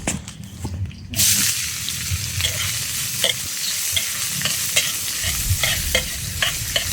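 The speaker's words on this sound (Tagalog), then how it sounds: "Ngayon nagigisa na ako ng mga sangkap ng spaghetti." Spaghetti sauce ingredients sizzle and fry in a pan at an outdoor survival camp in the forest, with steady close crackling, bursts of stirring and scraping, and small drips throughout.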